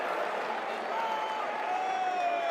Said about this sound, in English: In this moment, Stud, every time they get a kill, the crowd just erupts.